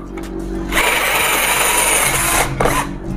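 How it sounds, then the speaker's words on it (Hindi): An INGCO CDLI1211 12V cordless drill fitted with a wood bit bores into a piece of wood, a loud steady whirring drone lasting about two seconds close up, with a brief burst again near the end. "ये हमने लगाया लकड़ी वाला बिट, ये हो गया, लकड़ी को रखेंगे और चलाएंगे।"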